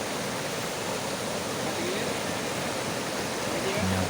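Waterfall at Wewelwatta, Ratnapura, Sri Lanka, water cascading over rock steps as a loud, dense, unbroken roar filling the whole span evenly.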